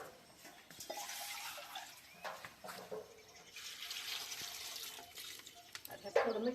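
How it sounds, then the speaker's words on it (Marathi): Water is poured into a cooking pot of washed drumstick pods (shevga) set to boil, giving a steady close splashing and gurgling that lasts several seconds, with a faint clink near the end. "आता शिजू टाकून पाणी ओतून घेऊ त्याच्यामध्ये"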